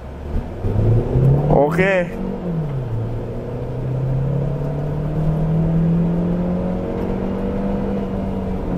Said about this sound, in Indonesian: Ini di mode eco tarikannya seperti apa ya?